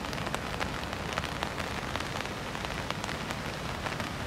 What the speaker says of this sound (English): Out here watching the surfers, Pedro, at Cottesloe on a rainy day.